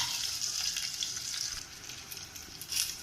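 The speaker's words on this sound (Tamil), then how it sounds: "இதில் நம்ம இப்போ வெள்ளைப்பூடு சேர்க்குறோம். இதையும் நல்லா வதக்கி விட்டுக்கலாம்." Garlic sautéing in a pan of hot oil, a steady close sizzle with soft stirring scrapes running throughout, alone without any voices.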